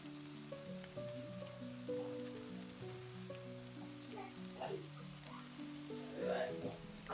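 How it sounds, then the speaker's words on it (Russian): Meatballs frying in a hot pan with vegetable oil and a piece of butter give a soft, steady sizzle and crackle that sits beneath sustained background music. "на разогретую сковородку отправляю фрикадельки"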